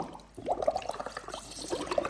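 A small child blows bubbles into the water of a little home aquarium, making soft, faint bubbling gurgles in uneven bursts, close by and quiet, with no voices.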